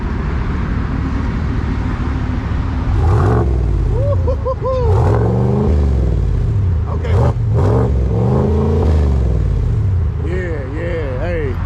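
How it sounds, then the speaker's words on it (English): A 2020 Chevy TrailBoss pickup, lifted on 37-inch tires, revs repeatedly over a steady idle, its engine pitch rising and falling in several close, loud sweeps while people talk nearby. "Can you give a rev? See what it sound like? Rev it up real quick?"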